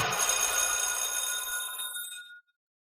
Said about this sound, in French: La sonnerie t'a sauvé.